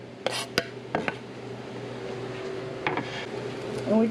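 Sliced ingredients for chiles rellenos go into a cooking pan, giving a few sharp metallic clinks and knocks with a soft faint sizzle underneath, sparse and close by.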